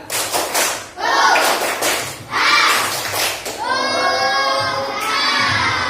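A group of children in a classroom claps in a quick rhythmic spirit-clap pattern, then shouts together in a loud cheer, close by.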